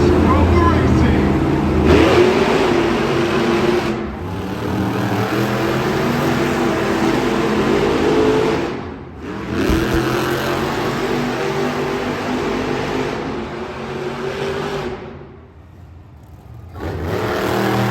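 Monster Jam monster trucks rev and race in an arena in Tucson, their engines roaring continuously with several surges and brief drops in power, loud and fairly near, while a voice talks over the noise.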